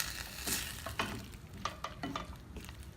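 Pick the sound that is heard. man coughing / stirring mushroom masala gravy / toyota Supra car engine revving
stirring mushroom masala gravy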